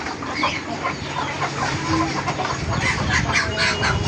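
Several chickens cluck and murmur continuously in a busy coop, with a dense layer of fowl noise throughout and no clear talking.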